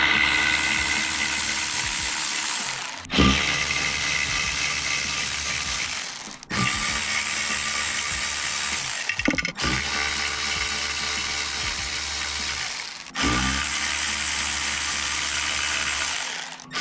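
A hand ratchet works bolts loose on a clutch pressure plate during a 1JZ VVTi swap into a Scion FR-S, its steady, close clicking running in five long bursts separated by brief pauses, with no talking.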